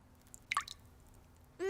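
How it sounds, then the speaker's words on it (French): Cartoon water drips from a leaking tap, a couple of distinct plinking drops, close and clear against near silence, with a brief rising blip at the end. "Maman, le robinet coule."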